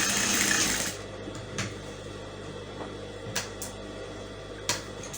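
Sewing machine stitching an elastic waistband: a brief busy mechanical run at the start, then it stops, leaving faint handling noises and a few soft clicks and taps, close and quiet, no speech.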